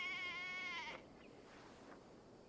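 A sheep in the game Assassin's Creed Valhalla gives one loud, wavering, close bleat, then falls quiet under faint ambient noise.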